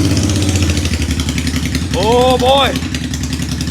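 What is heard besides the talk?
Honda Shadow motorcycle engine idling on two cylinders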